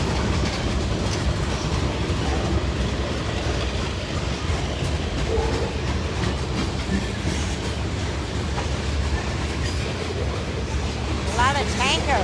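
A CSX freight train hauling many tank cars rolls steadily past up close, with continuous loud rumble and clickety-clack of wheels over rail joints and a brief wheel squeal near the end.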